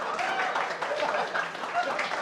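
An audience applauds for Syamsir Alam in a brief burst of steady clapping, heard under a speaking voice.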